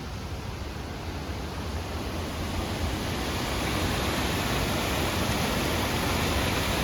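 A small waterfall spills as a thin sheet of water over rock on a hillside tea estate in Idukki, giving a steady, dense rushing roar with no voices.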